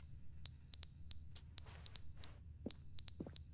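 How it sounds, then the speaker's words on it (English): A video game alarm beeps in paired electronic tones, two sets of double beeps and then a third pair, all evenly spaced and fairly loud against quiet background noise. "What's beeping?"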